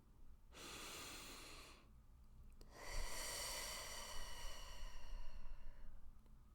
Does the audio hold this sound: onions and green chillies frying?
no